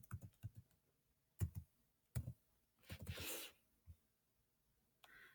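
Typing on a computer keyboard, with quick clusters of light clicking keystrokes coming in short bursts, close and fairly quiet, plus a brief hissy rustle partway through.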